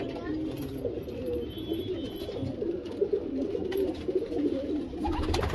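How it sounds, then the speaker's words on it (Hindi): Lalban pigeons from Sonipat, wild birds with red coloring and white bars, cooing in a low continuous murmur close by, with broadband rustling and background noise throughout. "सब जंगली कबूतर हैं"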